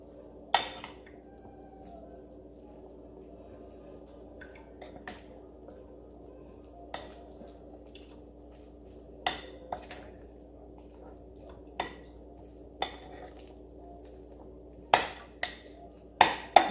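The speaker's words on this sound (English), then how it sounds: "We're going to go ahead and mix this up." Potato salad seasoned with celery seed is mixed in a bowl, with soft wet squishes and a series of sharp spoon-on-bowl clinks scattered irregularly over a quiet room background, no talk.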